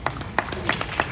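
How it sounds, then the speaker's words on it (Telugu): An audience at a centenary celebration claps in short bursts of distinct hand claps that come through clearly, fairly close, and last about a second. "మనందరం వారికి ఒకసారి చప్పట్లు కొడదాం సార్"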